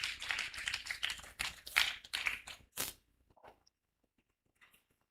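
Audience at an Ankole industrial development and export promotion workshop gives a short round of clapping, dense at first and then thinning into a few isolated claps before fading into near silence.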